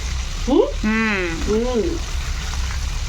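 Chicken pieces fry in hot oil for homemade KFC-style chicken, a steady close sizzle running throughout, with someone speaking briefly over it.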